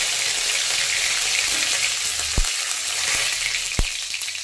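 Dried red chillies, mustard seeds and curry leaves sizzle and crackle in hot oil for a dal tempering, a steady bright hiss with two sharp pops standing out; no talking.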